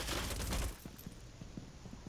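Enemy gunfire from the video game Rainbow Six Siege: a short, loud burst of automatic shots at the start, then quieter scattered pops and thuds.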